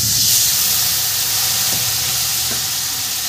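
Water poured into hot oil in which fried potatoes were cooked, with cumin seeds and ground cumin-coriander spice, gives off a steady, loud steaming hiss and sizzle that holds for the whole stretch, with no voices.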